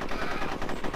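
Rapid automatic gunfire in the multiplayer mode of the video game Conker's Bad Fur Day, a dense continuous burst of shots filling the whole moment, loud and close with no talking over it.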